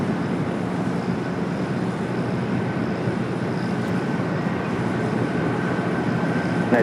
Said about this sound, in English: Also just had a United Dreamliner touchdown at 25 at left.